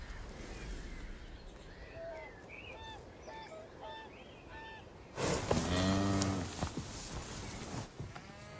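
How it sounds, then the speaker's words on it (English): Cattle moo several times at a moderate distance over an open Fenland pasture in England, followed by a louder, closer lowing call that holds for a few seconds. "herds of cows are grazing where not so long ago winter swans paddled"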